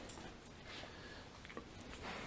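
Dogs whimper softly in the distance, with a few faint, high, brief whines over a quiet background.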